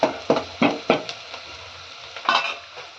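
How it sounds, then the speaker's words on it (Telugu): Fish curry stirred in a pot with a utensil, a handful of distinct scraping strokes clustered early and again near the end, close and moderately loud with a faint sizzle underneath. "ఇట్లా బాగా కలపాలి."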